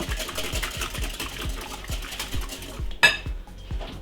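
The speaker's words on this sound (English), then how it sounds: "So you beat the egg and make sure it is really fine." Eggs are whisked in a bowl for a Yorkshire pudding batter, with a quick, regular series of light clicks and taps against the bowl and a soft, sharper clink near the end.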